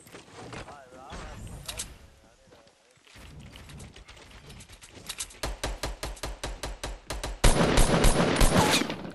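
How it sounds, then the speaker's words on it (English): Gunfire in a battle royale video game, a rapid run of loud shots in a steady rhythm that grows more intense toward the end, with players talking over it. "Good shooting, Bleed."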